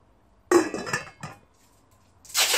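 White enamel GSW cooking pots from a four-piece German set, the largest 24 cm across, clink and clatter as they are handled: a cluster of close metallic knocks, then a brief pause and a final bright clank.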